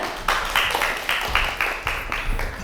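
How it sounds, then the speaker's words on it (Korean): An audience applauds a pharmacy professor introduced at a Friday science lecture, the clapping steady and moderately loud with rhythmic bursts throughout. "큰 박수 부탁드립니다."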